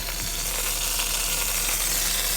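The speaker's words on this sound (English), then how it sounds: "You can hear it sizzling away." Lamb sizzling and crackling steadily in a 10-inch cast camp oven, a dense hiss with small pops, close and continuous with no talking.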